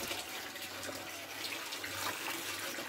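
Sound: water running while washing maize to remove ash

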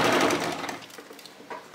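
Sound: sewing machine stitching a topstitch along fabric edge

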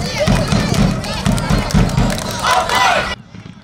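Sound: football crowd cheering with drums at youth league match

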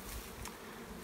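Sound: honey bees buzzing around hive boxes

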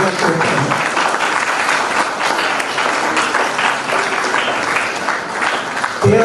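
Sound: audience applause

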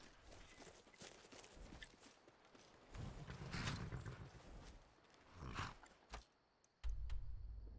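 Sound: horse riding in video game Skyrim

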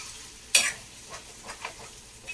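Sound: stirring sizzling dried fish, potato and brinjal curry

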